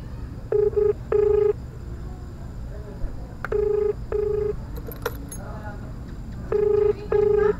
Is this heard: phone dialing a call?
yes